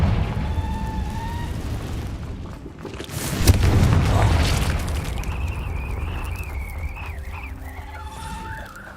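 A Confringo blasting spell goes off in the Hogwarts Legacy video game with a sudden loud boom close by. A rumbling, crackling burst follows it and slowly fades beneath ambient game sounds.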